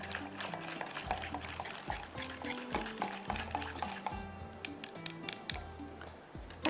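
A spoon stirs a whipped coffee and milk mixture in a bowl for hot chocolate coffee, with rhythmic, repeated scraping and soft clinks close by.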